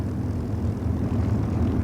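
A P-51 Mustang fighter's piston engine drones in a steady, low, rumbling roar with no pauses, loud and continuous with no voices over it.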